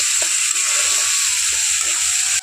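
Loud, continuous sizzling of tomatoes frying in oil, with soft rhythmic stirring or scraping sounds underneath and no voices.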